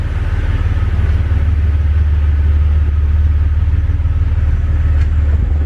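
A Jeep XJ with its doors held on by bungees pulls away, a steady loud low engine rumble running continuously up close with no pauses.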